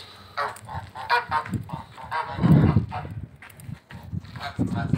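Several geese honk loudly and repeatedly close by while being fed on a farm, their calls overlapping in uneven bursts, and a person talks among them.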